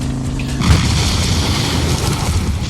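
A vehicle crash in the video game Terminator 2D: No Fate hits as a sudden heavy boom, then a sustained, loud rushing noise trails on.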